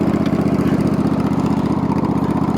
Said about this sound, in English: we tried to cut grass with the death machine